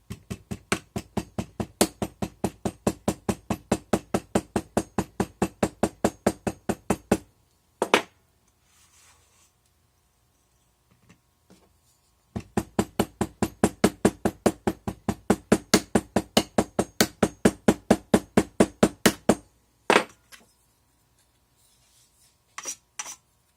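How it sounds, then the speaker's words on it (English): Two long runs of rapid, steady light taps, like a small hammer striking metal, while hammering a paw charm pattern for sand casting, separated by a pause with a few isolated knocks. "Okay, so now I'm going to do a little hammering."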